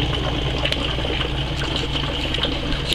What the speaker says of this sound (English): the bubbles blow through the bucket